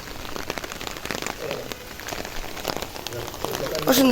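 Rain falls in a steady, close patter on a hard surface of a rooftop garden, with a brief voice sounding at the very end.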